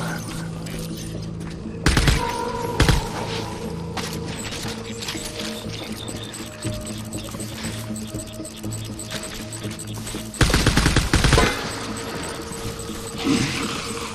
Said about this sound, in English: Engage, hostile. Taking fire.